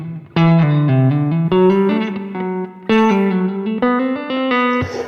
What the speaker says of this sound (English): with overdrive and distortion, that becomes a lot smoother